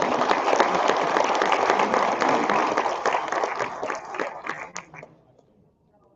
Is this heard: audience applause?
yes